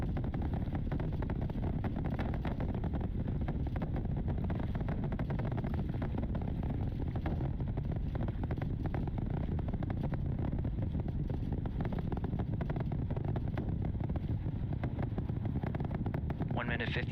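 The Artemis II rocket Integrity, climbing supersonic under main engine and solid booster power, gives a constant, dense, rumbling roar that does not let up, with a commentator speaking over it.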